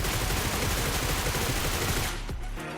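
Rapid gunfire bursts from a red dot sight weapon in the battle royale game BGMI. Dense, loud shots run back to back for about two seconds, then cut off, leaving a single trailing report and quieter game noise.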